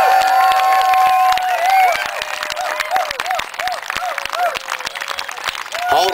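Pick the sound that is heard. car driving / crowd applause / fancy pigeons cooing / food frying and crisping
crowd applause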